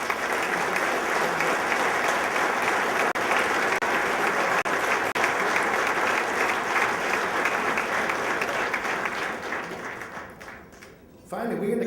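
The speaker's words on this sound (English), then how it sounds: "I think it's now time to give all of these great people a round of applause" Sustained audience applause at a St Patrick's Day lunch, a thick wash of clapping from a large room that holds steady before thinning and fading out near the end.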